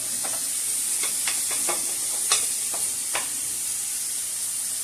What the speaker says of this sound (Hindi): जब ये प्याज थोड़ा सा फ्राई हो जाएगा, थोड़ा सा कलर अपना चेंज करेगा